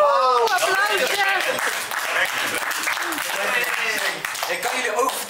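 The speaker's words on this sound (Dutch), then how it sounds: "Applaus!" A game-show audience applauds a team in a sustained wash of clapping and cheering, with voices and whoops riding over it throughout.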